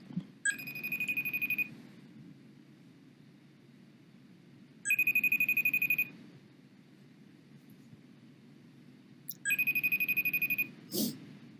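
A phone rings with a repeating electronic ringtone for an outgoing FaceTime video call, with three bursts at a steady pace separated by pauses, heard fairly close and without talk.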